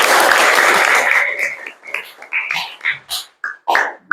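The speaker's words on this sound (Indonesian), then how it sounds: "tepuk tangan untuk kita semua" Students in a classroom lesson clap together, a dense burst of applause that thins out after a second or so into scattered, uneven claps and a few separate slaps toward the end.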